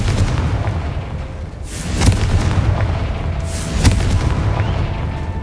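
A Confringo fire spell in Hogwarts Legacy bursts with two booming explosions a couple of seconds apart, each a sharp crack fading into a rumbling tail over a steady background hum.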